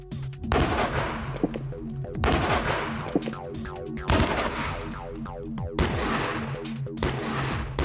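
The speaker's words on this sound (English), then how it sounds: "the cannon will be trained on the earth-backed section of the wall" A cannon pounds a stone wall with an earth-backed section, loud booming shots roughly every one to two seconds, each followed by a ringing, rumbling decay.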